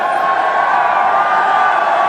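A large cricket stadium crowd at an India one-day match in 2013 keeps up a steady, loud roar of cheering and chatter, with a faint sustained horn tone running through it.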